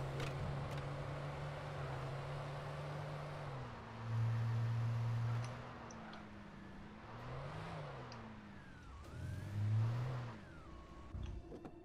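An electric car driven in the game Alan Wake, a smooth motor whine rising and falling in pitch through several accelerations, steady and fairly close with no talking.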